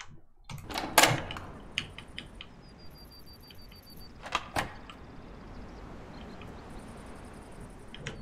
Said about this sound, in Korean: 문소리.